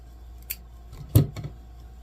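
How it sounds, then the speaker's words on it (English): Scissors snipping pot cleaners off while making a large Halloween mesh wreath, giving two or three quick close cuts with faint rustling between. "I got to make sure I can find my pot cleaners before I cut these off."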